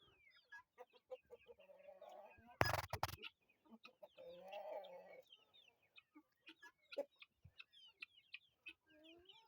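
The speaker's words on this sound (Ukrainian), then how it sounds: "Мої великі цесарки. Ось маленькі." Guinea fowl and chicks on a farm give scattered calls, clucks and chirps at close range, with a brief loud rustle or flap partway through; a person speaks faintly.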